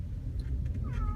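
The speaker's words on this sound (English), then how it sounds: "if you hear cats crying in the background, those are our cats" Several pet cats cry indoors during the aftermath of Hurricane Irma in Sebastian, Florida, giving faint brief meows over a low rumbling background.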